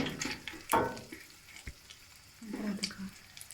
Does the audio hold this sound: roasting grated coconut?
yes